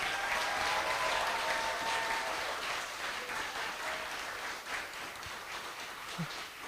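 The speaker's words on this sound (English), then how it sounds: "I'd like for you to give your biggest applause in celebrating and acknowledging them." Audience applause at the Cayman Islands Young Writers Award ceremony, a sustained, fairly soft wash of many people clapping in a hall, steady throughout with a slight easing toward the end.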